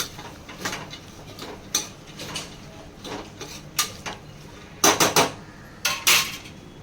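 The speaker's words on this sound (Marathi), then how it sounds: "तांदूळ धुवून घेते" Rice being washed in a metal pot for khichdi, giving a series of close, intermittent clinking and sloshing scrapes with short pauses, with several louder bursts near the end; no talking.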